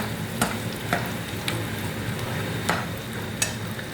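Onions frying in a pan for a gravy base: steady close sizzling with periodic soft scrapes of stirring at roughly half-second to one-second intervals.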